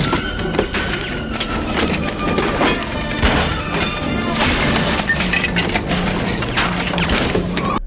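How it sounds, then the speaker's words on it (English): Building shaking and crashing in an X-Files episode: dense, continuous loud crashing, smashing and rumbling with repeated sharp impacts, like shotgun blasts, layered throughout. "And the building begins to shake."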